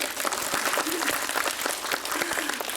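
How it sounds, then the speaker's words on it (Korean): Steady applause from a film screening audience at a Q&A event, dense clapping filling the room with a few louder claps standing out. "박수 부탁드립니다"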